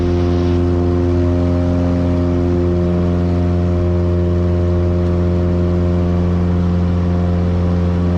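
Twin engines of a Piper Seminole airplane at full power on the takeoff roll, a loud steady droning hum heard from inside the cabin without talk.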